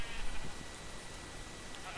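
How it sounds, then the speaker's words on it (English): A sheep bleats in the video game Minecraft, one of a small flock of eight, giving a short bleat near the start over a constant, noisy background. "I have these 8 sheep left over"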